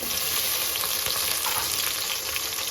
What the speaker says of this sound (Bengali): এখন মশলা ভালো করে ভেজে দেবো